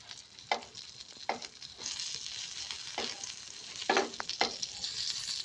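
Steady sizzling of eggplant frying in a pan, with occasional louder crackles and pops, heard up close with no talking.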